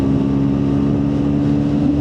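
A Bajaj NS400Z motorcycle engine revs hard in fourth gear toward 10,000 RPM, giving a steady, loud, close drone with a slight pitch rise near the end and no talk over it.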